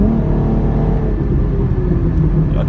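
A steady, loud low rumble and drone from a Subaru car engine with a burble exhaust tune, heard from inside while driving. The tone holds smooth and even, with no distinct pops.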